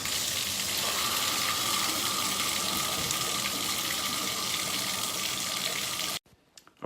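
Water drains in a steady rushing hiss from a house faucet during a filter change on a Watts One Flow system, continuous and fairly loud, then cuts off abruptly near the end, no talking.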